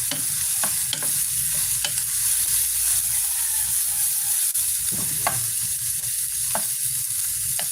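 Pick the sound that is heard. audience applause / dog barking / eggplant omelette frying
eggplant omelette frying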